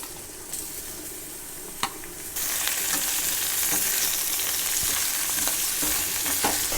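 Chicken pieces sizzle and fry loudly in a pan with browned onions and chilli, a steady close hiss that jumps louder partway through as the meat goes in, with occasional stirring scrapes.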